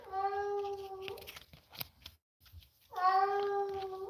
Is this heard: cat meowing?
yes